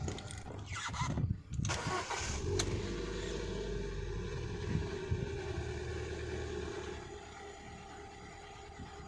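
Ford EcoSport engine cranking and catching after a power steering repair, with a brief starter whir and then a steady, close idle that settles and runs on alone.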